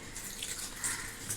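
Water pours in a steady continuous stream into a bowl for mixing, a close, brief splashing rush without any talking.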